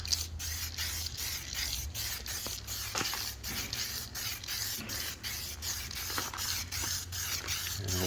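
Spray gun laying 2K clear coat onto a chin lip for an 8th-gen Honda Civic Si, outdoors on a cold evening: a steady hiss of spraying broken by short pauses between passes, close and continuous, with no talking.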